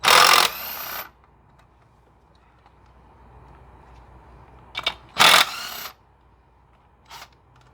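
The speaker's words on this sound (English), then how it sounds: "let's go ahead and remove those nuts" 10mm nuts being removed from the ignition coil pack of a 2008 Chrysler Town and Country 3.8L with a power tool, loud whirring bursts at the start and around five seconds with a brief buzz later, quiet between.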